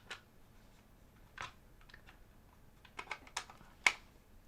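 A plastic SSD drive bracket with small spikes snaps together around a drive: a handful of quiet, sharp plastic clicks scattered unevenly, ending in one crisper snap, with near silence between them.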